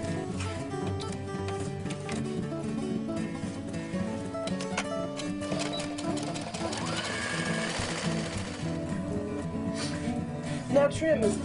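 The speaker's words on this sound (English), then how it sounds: "Now go to the machine and sew a 1/4 inch seam right along the outside here" Sewing machine stitching a quarter-inch seam on a drawstring tote bag, a continuous rapid mechanical whir and clatter running throughout, with someone talking over it.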